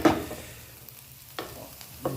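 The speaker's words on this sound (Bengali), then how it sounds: "গাজরটাকে একটু নেড়ে নিচ্ছি" Grated carrots frying in a pan with a low continuous sizzle, broken by a few short scraping stirs of a spoon, close and fairly quiet, no talking.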